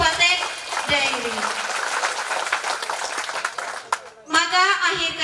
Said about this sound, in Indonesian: Tepuk tangan untuk Kabupaten Dairi.